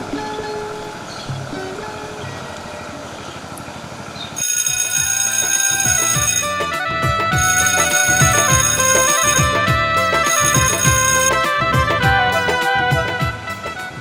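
A phone rings in a steady repeating electronic pattern, loud and close, after a few seconds of quieter background noise.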